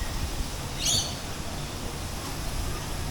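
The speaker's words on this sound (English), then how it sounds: "There are the birds. They're still going." Birds calling at dusk before a cyclone: one short, high chirping burst stands out briefly over a steady wash of outdoor wind noise, with faint distant calls after.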